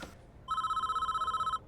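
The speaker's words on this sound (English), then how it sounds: "And there is the phone call." A telephone rings in the prison-management video game Prison Architect, a clean electronic two-tone trill pulsing steadily for about a second alone after a brief soft click, then stopping.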